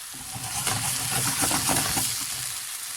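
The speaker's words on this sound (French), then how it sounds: "on prend une poêle et on fait un petit peu d'huile d'olive. Et on fait les légumes comme ça" Vegetables sizzle and fry in a little olive oil in a pan, with a steady crackling hiss and occasional stirring clatter, close and moderately loud with no talking.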